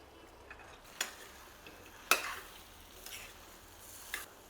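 Spoon scraping through bottle gourd pieces and chana dal in a pan, a few sharp clacks spaced about a second apart over a faint, quiet background.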